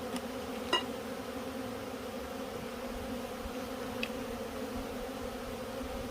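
Honeybees buzz steadily around an open hive during a hive check, a soft continuous drone with a couple of brief clicks, no speech.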